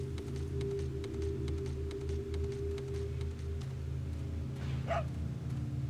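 Dog in the video game Resident Evil 4 gives a single short bark near the end, heard over a low droning game soundscape and a faint patter resembling rain.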